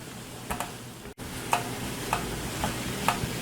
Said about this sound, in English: We just kind of want to stir them into those juices at the bottom, those steak juices.